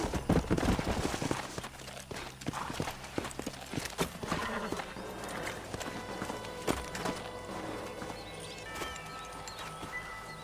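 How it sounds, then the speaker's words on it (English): Horse hooves clip-clop at a walk over rough ground in the video game Red Dead Redemption, with a brief whinny and a busy, noisy background. "Let's hold up a minute and find a spot for our horses."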